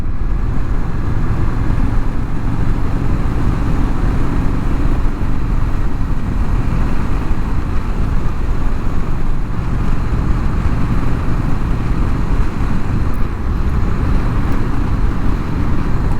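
Steady, loud engine drone and wind rush from a 2025 Indian Scout Sixty motorcycle cruising at 60 to 70 on a sunset ride, continuous and unbroken throughout with no speech.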